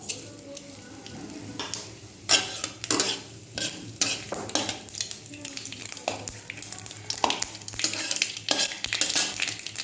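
Dried red chillies and mustard seeds sizzle in hot oil, a steady frying hiss broken by sharp crackles, pops and the clink of a spoon stirring against the pan, with no voices.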